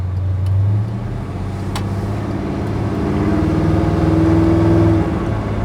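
A 1972 Chevrolet C10 with a big block engine revs with a deep, throaty rumble that rises and swells in pitch over a few seconds, close and loud, with no talking.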